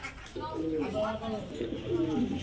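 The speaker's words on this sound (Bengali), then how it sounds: "একটা টপ কোয়ালিটির কবুতর" Giribaz pigeons at a pigeon farm coo in low, rounded, repeated calls that overlap one another, fairly close and steady, with people talking over them.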